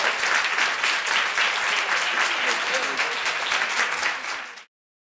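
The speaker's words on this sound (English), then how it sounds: "please give this panel a round of applause." Steady, dense audience applause for a panel on preventive services in New York City, loud and even throughout before stopping abruptly near the end.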